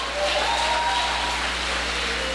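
A church congregation applauds, an even, dense wash of clapping that swells quickly and holds steady over a low hum.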